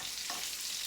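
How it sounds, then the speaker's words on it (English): Food sizzles and crackles steadily in a hot frying pan, a dense hiss with a brief scraping stir in the middle. "we can hear them sizzling away"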